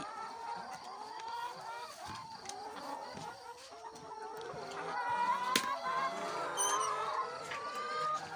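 Chickens cluck and call while being fed on a rural homestead in Isan, with overlapping clucks and squawks close by and a few sharper calls, growing busier toward the end.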